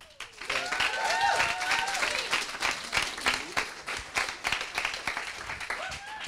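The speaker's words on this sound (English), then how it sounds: "So please, a big round of applause for my finish line." An audience at a coding bootcamp demo day in London applauds, with a dense burst of clapping that swells early and then tapers, with a voice faintly audible over it.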